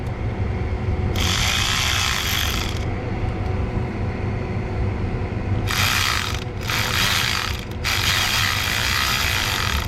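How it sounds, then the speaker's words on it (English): Electric ratchet tightening hose clamps on a 2008 Silverado 2500HD 6.6 Duramax during a water pump replacement, a loud close whirring in several bursts of a second or more over steady background noise, with no talk. "I use that electric ratchet to tighten so many hose clamps"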